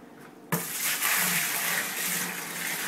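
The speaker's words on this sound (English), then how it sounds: "I'm just going to pour this wort into our bucket" Homebrewed beer wort poured aggressively into a bucket on brew day, a sudden loud gushing splash that starts abruptly after a quiet moment and then continues as a steady, close rushing pour.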